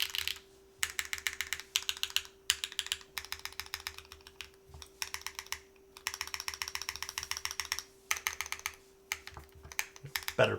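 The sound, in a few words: typing on Kei v2 keyboard, copper plate, HMX Yogurt switches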